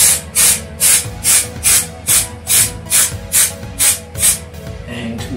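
Short bursts of aerosol adhesive spray hissing in a steady, regular rhythm inside a VW Transporter van roof, about a dozen quick sprays close by, each sharp and loud.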